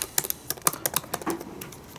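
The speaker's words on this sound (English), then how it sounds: "So let me do a little typing test." Rapid, shallow clicks from an Apple butterfly-switch keyboard with very low key travel, a quick uneven burst of close taps with no talking.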